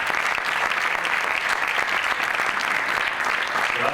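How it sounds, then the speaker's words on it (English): Steady, loud applause from a large crowd at the Ferrari Land groundbreaking at PortAventura, a dense patter of clapping that holds without a break. "Please, a big applause for Mr. Sebastian Vettel"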